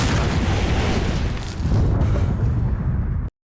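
A bomb explodes in the science-fiction film 4RROWH34D, a loud, sustained rumbling blast filling the whole stretch with deep roaring debris noise before cutting off abruptly.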